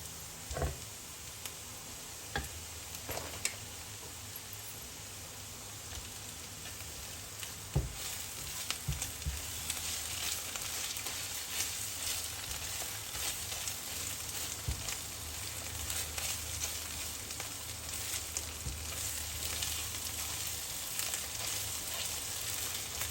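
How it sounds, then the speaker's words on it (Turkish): Onions and tomato paste fry in sunflower oil in a pan with a steady, close sizzle, crackling throughout, with occasional soft clicks of stirring. "Üzerine de azıcık ayçiçek yağı katıp kavuracağım şimdi."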